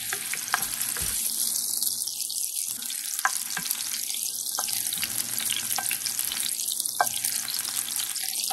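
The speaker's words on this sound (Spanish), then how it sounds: "le agregamos lo que es la cebolla, yo la partí en rebanaditas también. La dejamos que se sofría por un ratito." Thinly sliced onion sautéing in a hot pan, a steady sizzle with regular swishing sweeps and taps of a utensil stirring, no one speaking.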